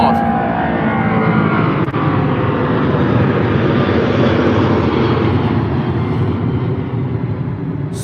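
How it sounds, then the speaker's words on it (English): A British Airways Boeing 777 in cherry blossom special livery takes off at Heathrow with a loud, close, sustained engine roar that fills the whole clip and fades a little at the end. "So 777 British Airways taking off here."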